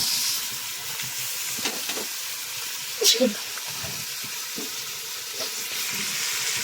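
Meat frying and being stirred in a pan while making homemade kebab, with a steady sizzling hiss throughout and occasional scraping stirs, one louder clatter near the middle, heard up close.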